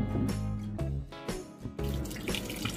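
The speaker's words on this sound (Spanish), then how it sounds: "Los vamos a cubrir con agua y le colocamos un poquito de sal gruesa" Tap water runs steadily into a pot of small, well-washed potatoes, a continuous loud splashing gush with slight changes in pitch as the pot fills, no talking.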